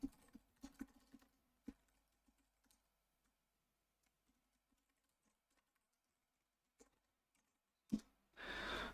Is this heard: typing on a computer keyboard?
yes